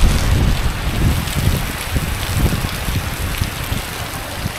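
Heavy tropical downpour on a cycling route in Vietnam pours steadily outside a shelter, a dense continuous hiss of rain on surfaces, loud and close with no talking.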